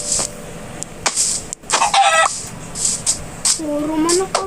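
Chicken clucks and short squawks come in brief bursts, with one higher drawn-out call near the end, over faint game-like background noise.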